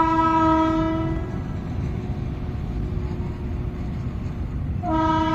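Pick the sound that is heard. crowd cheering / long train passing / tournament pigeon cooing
long train passing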